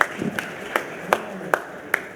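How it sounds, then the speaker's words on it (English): Slow, evenly spaced claps from a panel session audience at an HR summit, about six sharp hits in a steady rhythm, close and fairly loud over a low room hum. "Let's clap for the panel members."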